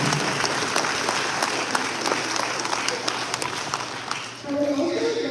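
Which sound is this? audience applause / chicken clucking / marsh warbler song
audience applause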